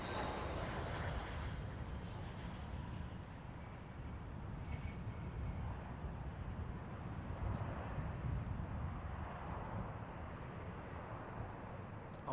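An airliner on approach to London Heathrow runway 09L in a crosswind, a steady distant jet roar that holds evenly throughout, faint and broad with no voices.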